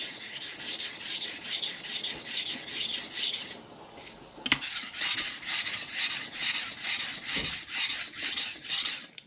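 A kitchen knife is drawn back and forth across a whetstone in steady, close rasping strokes, broken by a short pause and a sharp scrape, with no talking.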